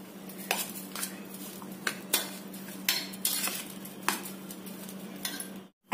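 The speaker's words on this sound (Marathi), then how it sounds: "सगळं छान एकत्र करून घ्यायचं" A spoon stirs and mixes salted leftover rice in a bowl for phodnicha bhat, giving repeated scraping clinks at an irregular rhythm, close and fairly soft over a low background hum, with no talking.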